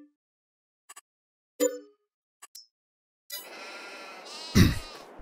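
Sheep in Farming Simulator 22 give a loud nasal bleat near the end, preceded by scattered metallic clinks and dings and a short burst of farm noise, with no talk.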